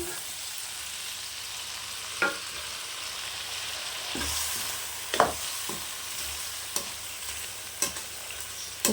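Mutton pieces going into a frying pan of curry base and being stirred, a steady background sizzle broken by a few sharp scraping and clattering stir strokes, fairly close, no talking.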